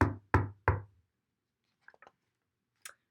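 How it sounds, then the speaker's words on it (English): Three firm knocks on a wooden door land close and loud in quick, even succession, followed by a few faint, scattered small sounds in otherwise quiet surroundings. "He knocked on the door."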